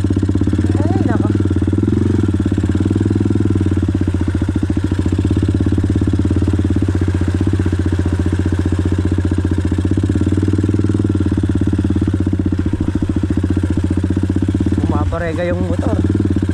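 A motorcycle engine labors on a slippery, muddy road, holding a loud, steady, thumping drone throughout with brief higher revving surges.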